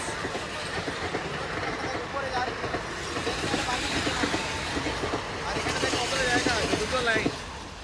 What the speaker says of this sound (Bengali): ট্রেন যাচ্ছে গাইস।